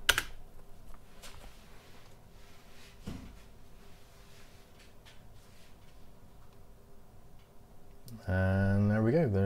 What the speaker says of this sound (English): Let's type in the Pirate Bay.